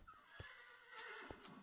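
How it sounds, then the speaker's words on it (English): A horse in the Minecraft Hexxit modpack gives a drawn-out neigh, faint and a little distant, with a few hoof knocks beneath it and no speech. "That horse is extremely loud."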